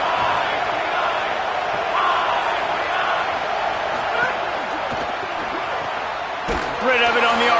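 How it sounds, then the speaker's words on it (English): A packed football stadium crowd roars steadily to support its defense, a dense, loud wall of cheering that swells near the end, with a commentator's voice running over it. "Listen to this crowd just shaking the girders of this place trying to help their defense."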